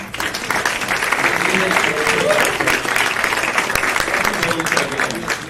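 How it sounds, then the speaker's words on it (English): Sustained crowd applause fills a university event room after a customer success meetup, many people clapping together at an even, loud level from start to finish, with some voices mixed in. "Another round of applause for the University of San Francisco for hosting as well."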